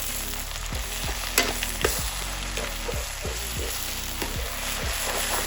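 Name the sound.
stirring and frying yakisoba noodles with sauce in a pan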